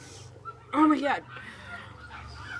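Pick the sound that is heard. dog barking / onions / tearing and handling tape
dog barking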